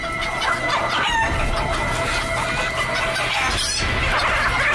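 Hens clucking and a rooster crowing in a noisy poultry setting, a continuous dense chorus of overlapping calls at steady loudness with no clear talk.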